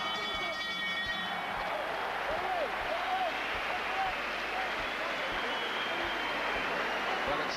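Crowd at a boxing match, the WBO cruiserweight title fight between Carl Thompson and Chris Eubank, cheering and shouting Eubank's name; a steady, loud roar of many voices fills the arena with a few higher shouts rising above it.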